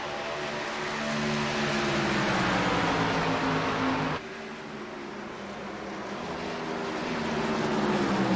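A racing boat's engine drones steadily and loudly, its pitch shifting with a clear drop partway through as the boat downshifts, then building again.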